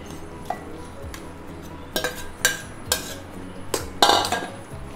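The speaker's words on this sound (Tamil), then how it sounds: "இப்போ வந்து சேமியாவை மிக்ஸ் பண்ணிடலாம்" Cooked vermicelli is stirred into tempered curd in a vessel, with a spoon clinking and scraping against the metal in a few irregular knocks, close and moderately quiet.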